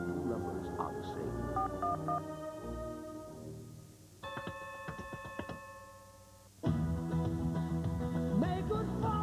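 A burst of telephone touch-tone dialing, a quick run of steady DTMF beeps heard on its own between stretches of broadcast music from a television game show.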